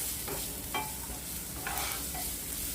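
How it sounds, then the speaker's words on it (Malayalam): Maggi noodles frying on high flame in a kadai, a quiet continuous sizzle broken by a few short scraping stirs, no talking. "ഇത് ഹൈ ഫ്ലെയിമിൽ വെച്ചിട്ട് ഒരു 2 മിനിറ്റ് ഒന്ന് ഫ്രൈ ചെയ്താൽ മാത്രം മതി"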